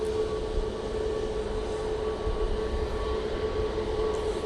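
An aircraft departs Manchester Airport for Prague as a steady, distant jet roar with a faint tonal whine that holds throughout, with no talking.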